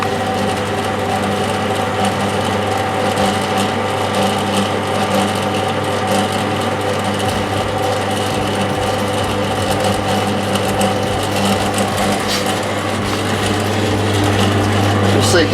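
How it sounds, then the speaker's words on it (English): The oil pump of an Anets 14GS commercial fryer runs steadily, pumping oil from the drain back into the fry pot. It makes a constant mechanical whir and drone with a faint ratcheting texture, close and unbroken. "close the drain valve, allowing the oil now to pump back into our fry pot."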